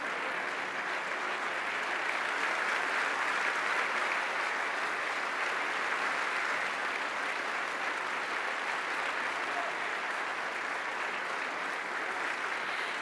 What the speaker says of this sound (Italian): Lo facciamo ancora con un applauso.